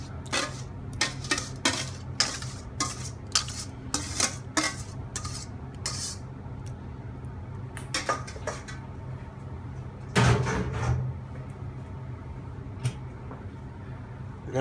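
Utensil mixing a dressed Russian salad (Olivier) in a bowl: irregular clinks and scraping knocks, clustered in bursts with brief pauses, over low steady background hum.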